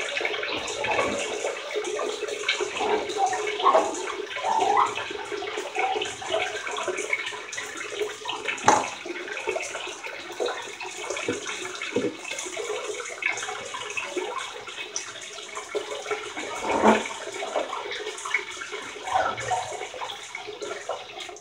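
Water runs steadily from a tap into a sink while preparing for a wet shave, a continuous broadband splashing rush with a few brief clinks and knocks, fairly close and without talk.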